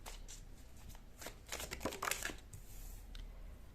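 Tarot cards shuffled and drawn during a pick-a-card reading, a run of soft riffling, sliding and snapping card sounds at close range, with no talking.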